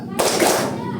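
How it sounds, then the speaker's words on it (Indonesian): Fifth-grade primary school pupils in a classroom clap together in a counted rhythm game, a sudden loud burst of hand claps close by, and a voice is mixed in with the claps. "Tepuk 1, tepuk 2, tepuk 3,"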